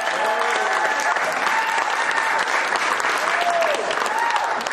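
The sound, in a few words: applause for boxers at press conference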